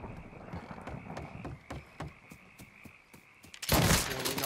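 Gunfire in the video game Mafia 3: a run of sharp, evenly spaced shots over a low rumble, then a sudden louder, denser burst of firing near the end.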